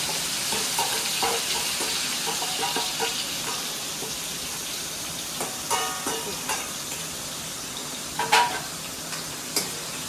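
Tomatoes and onions with asafoetida fry in a pan for baingan bharta, a steady close sizzle broken by repeated stirring scrapes and occasional louder clacks of spoon on metal.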